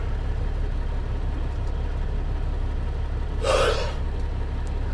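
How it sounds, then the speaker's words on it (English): A single breathy yawn rises briefly over a steady low engine rumble from inside a moving vehicle during a soybean harvest. "I am sorry guys, I keep yawning."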